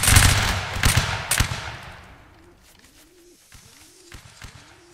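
Volley of musket fire in the Napoleonic Wars game line battle: a few sharp, loud gunshot bursts close together at the start, fading into quieter ambience with bird-like cooing.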